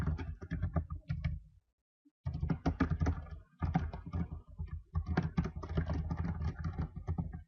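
Close, quick keystrokes on a computer keyboard come in bursts of rapid clicking, broken by a short pause and then resuming at a steady pace.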